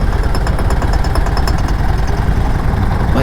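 A motorcycle engine runs loud and close while riding, a steady throbbing drone with dense rapid pulses.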